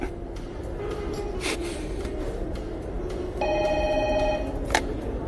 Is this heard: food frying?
no